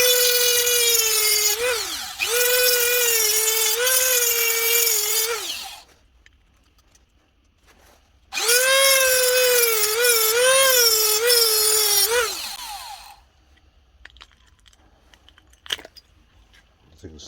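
A grinder or Dremel skims solder off the underside of a circuit board from an old Pioneer CD recorder, whining in two loud sustained bursts of several seconds each, with quiet gaps between them and small clicks near the end.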